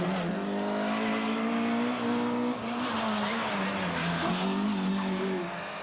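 A Cadet GSI rally car of about 180 horsepower, competing in the 1987 Circuit of Ireland, drives hard at speed: a continuous loud engine roar whose pitch rises and dips through gear changes, with no talking.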